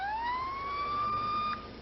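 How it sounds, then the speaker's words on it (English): A police car siren wails steadily, its rising tone leveling off into a sustained pitch, then cutting down abruptly near the end. "one by one had each vehicle turn their siren on"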